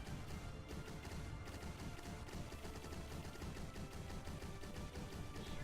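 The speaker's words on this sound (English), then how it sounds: "It's a shame that the lasers also sound like the cannons." Laser cannons in a space combat video game firing in a fast, continuous stream of sharp bursts, steady and fairly faint, with no talk.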